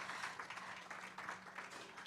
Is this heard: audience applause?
yes